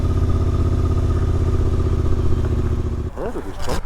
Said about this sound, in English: lots of motorcycles here